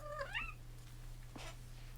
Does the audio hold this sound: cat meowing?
yes